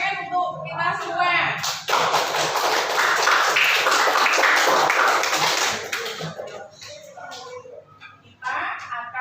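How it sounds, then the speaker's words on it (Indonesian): A class breaks into applause, a dense sustained wash of many hands clapping for several seconds, with a teacher talking before and after it. "Tepuk tangan untuk kita semua."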